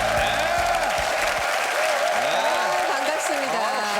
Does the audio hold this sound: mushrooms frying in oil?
no